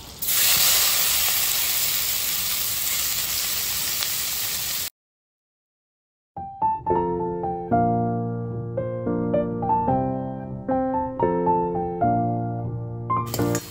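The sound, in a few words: onion sizzling while frying in melted butter for pav bhaji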